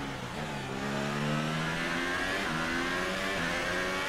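A Formula 1 car in the racing game F1 2018, qualifying at Brazil: a continuous high engine whine that climbs in pitch through the gears, revving hard and close throughout.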